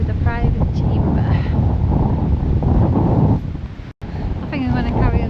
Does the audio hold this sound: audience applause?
no